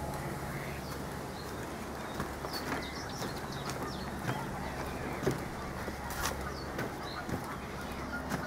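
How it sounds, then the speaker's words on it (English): Ducks calling in a reedbed during an outdoor walk, scattered honks and quacks at a distance over a soft ambient bed, with no talk. "There's some ducks."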